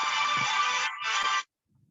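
A mobile phone ringtone plays during a college prep math session, a bright, steady electronic tone that is loud and close, briefly dips, then cuts off abruptly into near silence.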